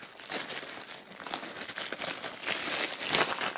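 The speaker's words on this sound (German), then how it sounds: "Wir haben hier die Box noch in Folie, werden also erstmal die Folie entfernen" Plastic shrink-wrap foil crackles and crinkles continuously as it is peeled and torn off a black metal CD box, a close, dry rustling that swells near the end.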